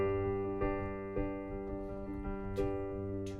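Solo piano playing the verse of a song, steady sustained chords with gentle rhythmic note changes, clear and close, without any voice.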